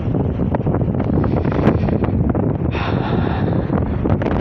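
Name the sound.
wind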